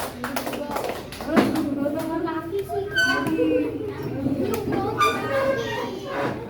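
Scattered clapping from a small classroom group, with children's voices chattering over and around it.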